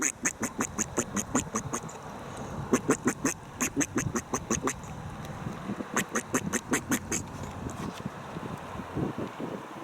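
Ducks quack on the Santiam River, loud rapid bursts of repeated quacks in several clustered runs, close by, with wind buffeting the microphone between calls.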